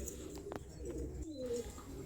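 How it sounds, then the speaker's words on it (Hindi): Pigeons cooing inside a hall on a pigeon farm in Purnia, soft low throaty coos repeating with a few brief chirps, close and clear with no talking. "छोटा सा कबूतर जिसकी गुटुर गुटुर आवाज़ हर घर में सुनाई देती है"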